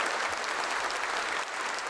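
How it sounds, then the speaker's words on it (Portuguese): A church congregation at a Catholic Mass applauding together, a dense, steady wash of clapping hands that stays loud and continuous throughout. "Uma salva de palmas mais forte para a palavra."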